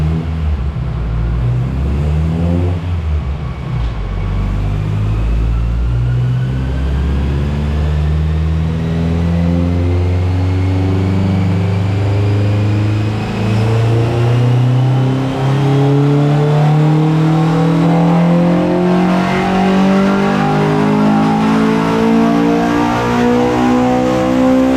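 An LS VTEC swapped Honda EG Civic engine revs hard on a dyno, its pitch climbing steadily through a long, loud, continuous pull with a brief dip early on and no talk.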